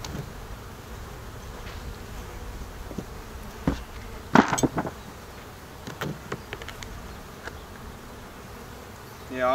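Honey bees buzz around a hive on a warm day, a constant close hum with several louder passes as individual bees fly right by, and no talk.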